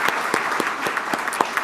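A room of guests at a Rotary club meeting in Tulsa applauds, with brisk, steady clapping right from the start, close and moderately loud, lasting under two seconds.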